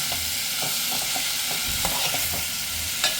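Raw mango raita mixed with jaggery, stirred in a bowl: a steady close rustle with repeated soft scraping strokes at an even rhythm, no speech.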